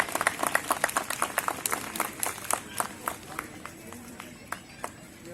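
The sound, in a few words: audience applause at Ramlila event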